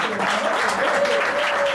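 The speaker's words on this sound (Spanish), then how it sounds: "¿Qué tal si lo recibimos con un fuerte aplauso?" Short burst of steady audience clapping at a children's ballet show, dense and continuous over the whole moment, with a faint voice tone running beneath.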